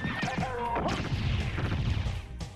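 A horse whinnies loudly in Castlevania: Symphony of the Night, its neigh mixed with crashing, hoof-like impacts and game sounds.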